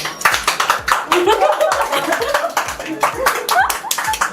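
Several people clap together in quick, uneven bursts at a sizzler restaurant, close and fairly loud, with chatter and light laughter mixed in among the claps.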